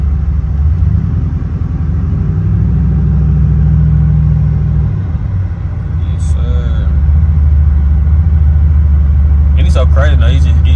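A cammed Chevrolet Impala SS rumbles loud and low while creeping slowly through snow in cold weather, its uneven idle throb steady throughout, with a few faint higher squeaks late on.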